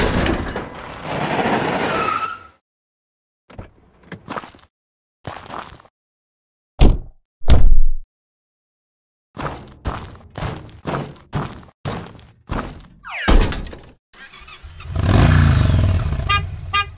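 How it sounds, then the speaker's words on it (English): A car engine roars and its tires skid in bursts, with loud whooshes at the start and end and a string of short, sharp thunks and squeals in between. "C is for car."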